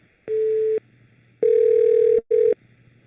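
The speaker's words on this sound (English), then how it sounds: "Awful lot of beeping and ringing here." Beeps on a telephone line during a call to a town office, three flat electronic tones, the first short, the second long and the third brief, clear and close over a faint line hum.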